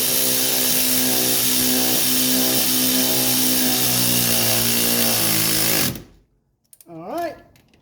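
Power tool driving a threaded part into the front suspension of a 1985 Mercedes 300CD: a loud, steady mechanical whir with a harmonic drone lasting about six seconds, then it cuts off, leaving a brief quieter sound.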